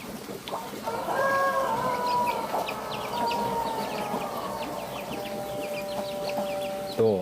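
Several chickens cluck steadily and loudly at close range while being fed fish pellets on a small home farm, with overlapping calls and a drawn-out crowing note in the middle.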